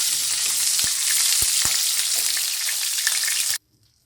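Chitol fish dumplings for a traditional Bengali muitha fry in hot oil with a steady, dense sizzle and a few sharp pops and spatters, close and loud before cutting off abruptly near the end.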